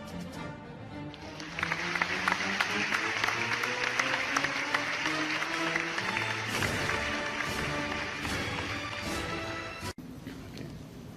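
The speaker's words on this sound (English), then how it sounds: "Let's give a virtual applause." Applause at a virtual high school graduation ceremony: a steady, moderately faint wash of clapping over a sustained musical backing, ending in a brief sharp break.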